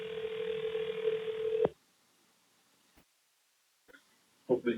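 A single telephone ringback tone sounds over a call line as a steady electronic hum, cutting off abruptly partway through and followed by near silence with a few faint clicks and noises.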